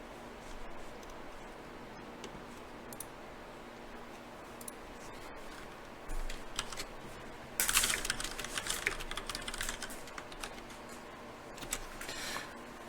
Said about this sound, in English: I do have a mechanical keyboard, and this mic picks up a lot of sound, so if I ever have to type, you're definitely going to hear it